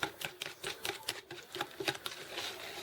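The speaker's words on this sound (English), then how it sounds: "we're gonna stir this up with my whisk" Eggs being whisked in a bowl for sour cream cake batter: a rapid, steady run of close, crisp clicks and taps from the whisk, with no talking.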